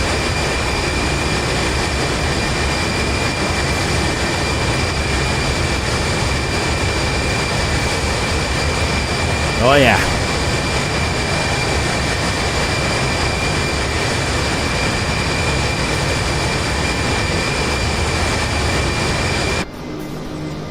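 Boeing 747SP jet engines in Microsoft Flight Simulator 2020 on a TWA route from St. Louis to New York JFK, a steady loud roar and whine throughout, with a brief voice midway.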